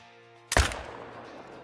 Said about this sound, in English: I'm going to take a shot with the AR-308